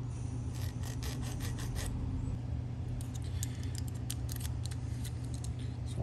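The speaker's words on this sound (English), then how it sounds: "Just a few little scratches with the file to do that." A hand file scrapes the tip of a steel lever from an antique lever lock in quick rasping strokes, a short burst and then another. The strokes are faint and close, over a steady low hum.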